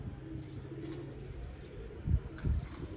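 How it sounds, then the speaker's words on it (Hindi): A pigeon coos twice in low, soft bursts near the end, perched on a net in a village, over a steady outdoor background hiss. "तीसरा कबूतर सुबह का आ रहा है"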